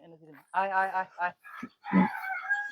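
Desi chickens at a farm give a few short clucks and calls, close and fairly loud, while a person talks nearby.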